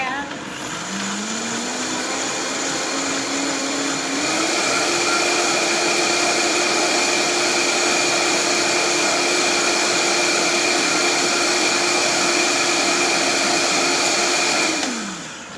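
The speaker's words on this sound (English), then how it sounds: "I'm just gonna blend this now and get it nice and creamy." A blender purees vegan mac and cheese sauce in a kitchen, its motor whirring loud and steady for about fifteen seconds, pitch rising as it spins up and dropping away as it stops at the end.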